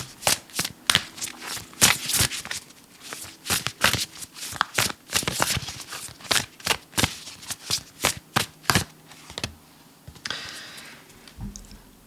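A deck of tarot cards is shuffled by hand, making rapid, crisp riffling and slapping bursts in a steady, close-up rhythm. A softer rustle follows near the end.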